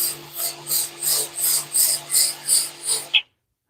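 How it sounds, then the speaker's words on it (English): Sandpaper rasps over a wooden knife sheath in about ten even back-and-forth strokes, close and steady over a low electrical hum, then it stops abruptly into silence. "always sand towards yourself."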